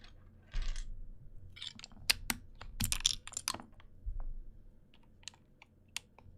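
Keycaps being pried off a KBD67 Lite keyboard with a keycap puller, heard as a run of sharp plastic clicks and snaps at irregular intervals, close and fairly loud, with faint handling noise in between.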